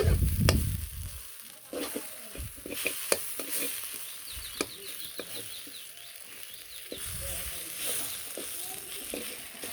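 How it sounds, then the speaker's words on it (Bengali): Food stirred and mixed in a frying pan, soft scraping and sizzling with intermittent utensil clicks, while a rooster and other birds call in the background and a voice briefly speaks. "ভালো করে নাড়াচাড়া দিয়ে মিশিয়ে নিয়ে নাকবো গুলাটা"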